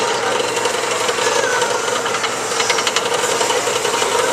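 A beam is driven into vibration by a steady 667 Hz resonant tone, a loud continuous hum over a dense buzzing rattle and hiss that flutters a bit more in the second half.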